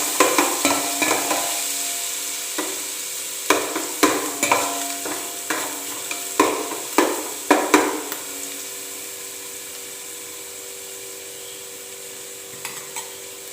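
Ginger, garlic and green chilli sauté in a pan for a kappa biryani, with a steady sizzle under repeated sharp scraping strokes of a spoon that come in bursts and then fade, leaving a quiet hiss.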